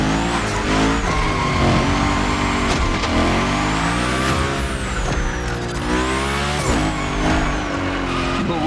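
A car sliding through a gymkhana run in the video game The Crew Motorfest: a loud, steady engine roar with rising and falling revs, and long tire squeals sweeping in and out as it drifts.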